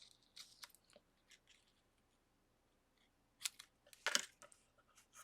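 Paper for a scrapbook layout is cut with scissors, a few crisp snipping bursts near the start and a louder cluster of cuts toward the end, close and quiet with pauses between, no talking.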